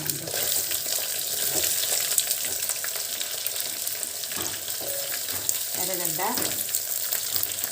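Onions, garlic, dried red chillies and curry leaves frying in a pan for Andhra-style chilli curry, a steady close sizzle with occasional stirring scrapes and a brief splash of water near the end.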